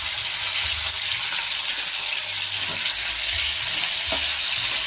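Hyacinth beans fry with salt and turmeric in a pan, giving a loud, continuous hissing sizzle that holds steady throughout, with no voices.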